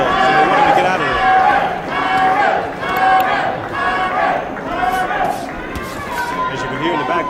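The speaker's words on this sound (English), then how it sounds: "the crowd's hollering and yelling for Myron, calling Myron, trying to exhort Myron Taylor" A boxing crowd hollers and yells for Myron Taylor in a steady, loud roar of many voices with chanting swells and cheers, ringing continuously across the arena.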